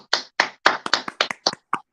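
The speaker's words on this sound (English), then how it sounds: "let's clap" Several people clap together in a morning-show studio, about eight sharp, separate claps in a loose rhythm, close and fairly loud with short silences between.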